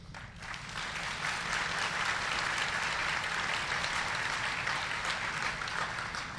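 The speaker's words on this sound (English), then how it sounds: "I want to give a round of applause" A large commencement audience at the RCC graduation ceremony breaks into sustained applause, a thick, even roar of many hands clapping that swells in the first second and holds steady, without speech.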